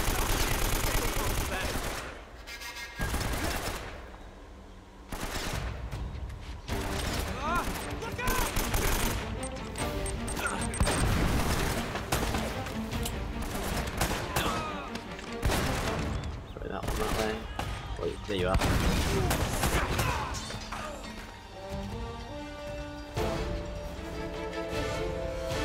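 A mounted gun in Uncharted: Drake's Fortune fires in long rattling bursts throughout, heavy and continuous, with explosions and crashing debris mixed in and brief pauses between volleys.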